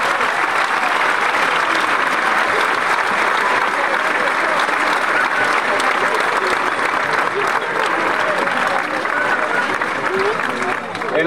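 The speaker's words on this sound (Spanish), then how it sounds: "El primer gran aplauso de esta noche se lo vamos a dedicar a todos los sanitarios" A large crowd at a night event in Ribaforada, during the Paloteado festivities, applauds healthcare workers with loud, dense, sustained clapping that fills the whole stretch without a break.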